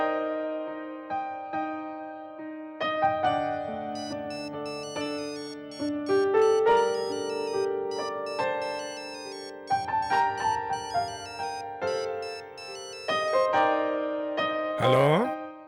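A melodic telephone ringtone in a household scene from a Telugu TV serial plays loud and close, repeating its tune for about fifteen seconds with short gaps between phrases, ending in a sharp rising swish.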